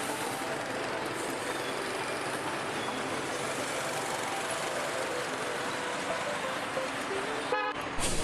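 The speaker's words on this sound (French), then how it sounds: "Toutes les motos et beaucoup de circulation." Heavy traffic streams past near a park and temple in Vietnam, a continuous roar of motorbikes and cars with car horns tooting throughout and one sharp, sustained honk near the end.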